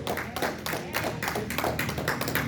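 A church congregation applauding during a sermon, dense continuous clapping from many hands that holds steady throughout at close range.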